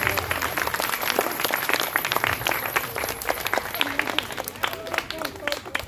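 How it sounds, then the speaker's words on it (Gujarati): A crowd at a school Republic Day event claps, a dense, continuous patter of many hands filling the space at moderate loudness from start to finish, with voices faintly beneath. "તો એના માટે એકવાર જોરદાર તાળી થઈ જાય"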